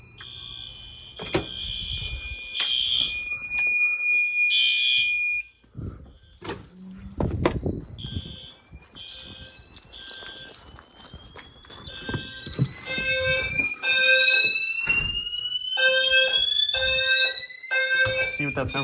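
Two fire alarm systems, one in a garage and one in a house, sound at the same time: steady electronic alarm tones give way to repeating rising sweeps, with intermittent clicks, footsteps and people talking nearby.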